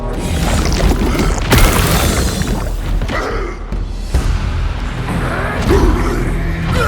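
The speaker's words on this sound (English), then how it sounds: "We have since learned how to perform the Riven Twins Plague Explosion." The Riven Twins Plague Explosion spell from No Rest for the Wicked goes off loud and close as a deep booming blast with crashing, crackling debris and rumbling swells that surge and fade over several seconds.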